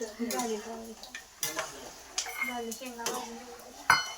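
Pots and utensils clink and scrape during stirring while poha is cooked in a home kitchen, in short irregular metallic knocks over a faint sizzle.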